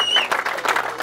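Brief burst of audience applause at a fishing tournament awards ceremony by a lake, a dense wash of clapping that lasts about a second with a thin whistle-like tone near the start.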